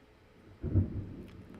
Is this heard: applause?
no